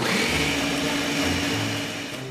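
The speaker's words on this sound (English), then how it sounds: "The plant is ground up. And yes, they use a blender." An electric blender grinding marijuana plant material runs in a steady, dense whir with no breaks, loud and close, easing slightly toward the end.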